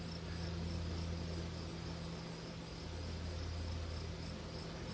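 Insects, including bees, chirp and buzz continuously outdoors, a steady high-pitched cricket-like drone layered over a low humming background, with no pauses.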